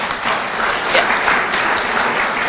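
Audience at a high school top-students recognition ceremony applauds continuously, a dense, even wash of many hands clapping at moderate loudness.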